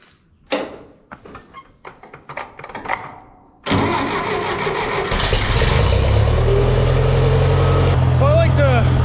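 A Farmall 504 tractor, about to pull a hay rake, clanks and clicks briefly before the engine fires and settles into a loud, steady close-up idle rumble.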